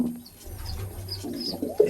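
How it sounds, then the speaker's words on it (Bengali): A pair of Malbai pigeons in a breeder's coop coo in low, soft, rolling phrases at close range, with faint chirps in the background and a sharper sound near the end. "এই যে দুটো দেখছেন, এটা হচ্ছে মালবাই পায়রা।"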